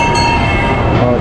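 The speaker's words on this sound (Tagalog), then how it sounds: "Ay, may tren. May tren." A train passing in Dubai gives a loud, close, steady rumble and rail roar with a sustained high tonal whine, continuous throughout the short span.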